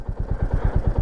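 A motorcycle climbing a high mountain pass road in Ladakh, its engine thumping in a steady, fast pulsing beat, close and loud with no voices.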